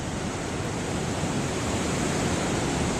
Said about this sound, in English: we've got big waves today